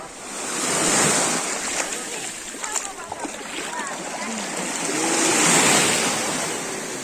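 Waves washing onto a small sandy beach, a continuous close roar of surf swelling and easing over several seconds, with wind buffeting the microphone and a voice talking over it.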